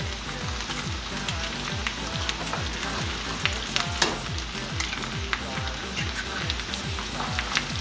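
Eggs cracked into a potato hash frying steadily in a pan, a continuous close sizzle with a rhythmic scraping or stirring pattern running underneath.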